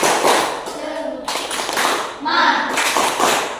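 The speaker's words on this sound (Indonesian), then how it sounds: "sekarang tepuk semangat dulu biar semangat sebelum belajar" A primary school class performs a rhythmic spirit clap before a lesson, groups of quick claps broken by short pauses, loud and close with children's voices mixed in.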